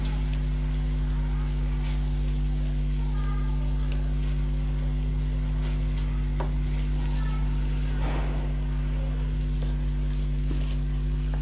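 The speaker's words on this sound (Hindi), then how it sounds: "अदरक लहसुन और टमाटर को भूनते हुए 5 मिनट हो चुके हैं।" Ginger, garlic and tomato paste fries in a pan for mutton kata kat, giving a continuous soft sizzle with occasional stirring scrapes, all over a steady low electrical hum.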